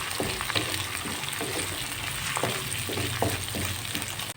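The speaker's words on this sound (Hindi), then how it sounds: "टमाटर भी इसी तरह इंशाल्लाह हम लाइट सा इसको हम फ्राई करेंगे" Chopped tomatoes frying lightly in a pan for vegetable macaroni, giving a steady close sizzle with occasional stirring clicks and scrapes throughout.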